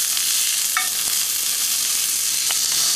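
Sausages sizzling in a pan on a compact survival stove outdoors, a steady bright frying hiss with a couple of faint clinks of utensils, no talking.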